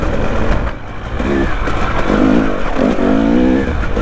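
Off-road motorbike on a green lane, its engine rumbling and revving in short rising bursts near the microphone, with a rough, steady engine drone underneath and no voices.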